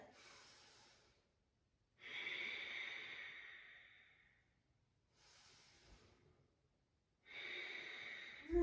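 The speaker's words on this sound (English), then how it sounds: "begin to breathe in and out through the nose, constricting the back of the throat just slightly so you can hear and feel the breath" Ujjayi breathing through the nose with a slightly constricted throat, yoga breath in slow alternating cycles of long, hissing, ocean-like inhales and exhales separated by short pauses, close and quiet, no talk.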